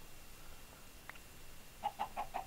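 Chicken clucking in the video game Minecraft, a faint single cluck followed by a quick run of four short clucks in even rhythm, quiet and alone.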